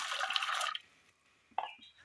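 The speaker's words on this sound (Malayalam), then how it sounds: "ഒരു കുക്കർ അടുപ്പത്ത് വെച്ചതിന് ശേഷം അതിലേക്ക് അല്പം വെള്ളം ഒഴിച്ചു കൊടുക്കാം." Water poured into a pressure cooker on the stove, a short gushing splash that stops, then after a brief quiet a single clinking tap and faint trickle.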